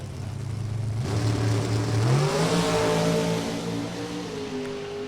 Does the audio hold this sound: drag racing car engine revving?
yes